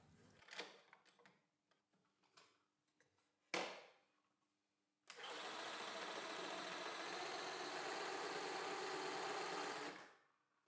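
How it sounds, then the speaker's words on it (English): A DIY shaker station built around a jig saw shakes a spray can, with a few handling clicks and knocks first, then a steady, loud mechanical buzzing and rattling that runs for about five seconds before cutting off. "I'll shake the can in the station and then attach it to the gun."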